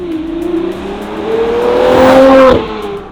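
Novitec Ferrari 812 N-Largo with a 6.5-litre naturally aspirated engine and N-Largo exhaust, loud and close, its tone climbing steadily as the revs build to a peak before cutting off sharply.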